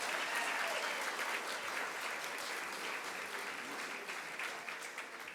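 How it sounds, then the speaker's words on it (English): An audience applauds a visiting Rotary global grant scholar from Kenya studying at Yale, the steady clapping of many hands filling the room at even strength for several seconds before tapering slightly at the end. "I will let you applaud for him because he's why you're here"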